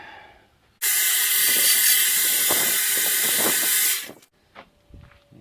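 A linisher belt sander cleans up a freshly cut PVC part. A loud, harsh grinding hiss starts abruptly, holds for about three seconds, then cuts off, leaving a few faint clicks and rattles.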